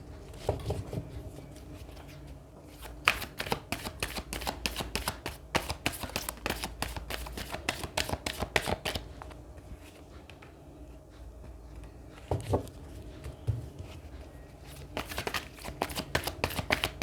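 Psychic tarot cards being shuffled over and over in quick, close riffling bursts with soft papery flutters, separated by brief pauses, and no voice over them.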